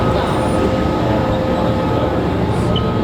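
A Hong Kong subway train rides along with a continuous loud rumble and rolling noise, steady throughout with no clear pauses and faint murmuring in the background.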